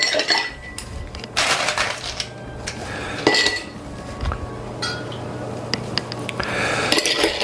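Ice clinks and rattles against a glass or mixing vessel as a cocktail is stirred with a bar spoon, with bursts of bright, close clattering.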